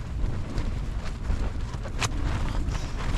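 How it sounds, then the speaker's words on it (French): Strong wind gusts and buffets continuously outside a tent on a high mountain, a loud, rough roar with no pauses across the whole clip. "Oh, ça souffle de fou."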